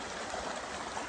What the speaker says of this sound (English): we're sitting on a bridge on a babbling brook